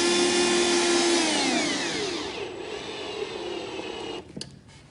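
Cordless drill whining at high speed as it drives the last screw into a wooden bench, loud and close, slowing as the screw seats and then stopping with a few brief knocks.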